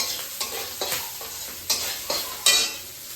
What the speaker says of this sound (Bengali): এবার ভাতটাকে মিশিয়ে দিলাম সবজির সাথে।